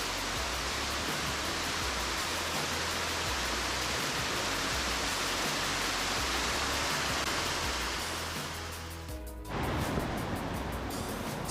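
Strong, heavy water pours down Tumpak Sewu waterfall in a steady, dense roar close by, with a brief dip and shift in tone near the end.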